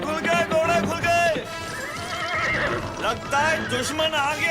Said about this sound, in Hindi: घोड़े खुल गए, घोड़े खुल गए।